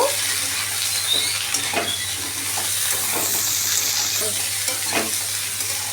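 Drumsticks and potatoes sauté in hot oil with salt and turmeric, a steady close sizzle broken by repeated scraping stirs of a spoon against the pan.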